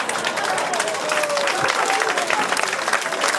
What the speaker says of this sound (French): Donc vous applaudissez Macron.